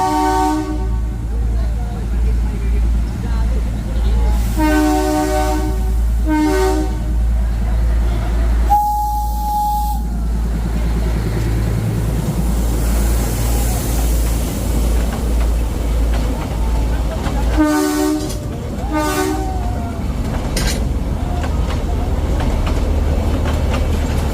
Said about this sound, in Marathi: ट्रेन आता येते